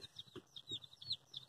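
Newly arrived chicks, a batch of Americanas, a Buff Orpington male and Rhode Island Red females, cheep and cluck in a shipping box with soft, overlapping high calls throughout.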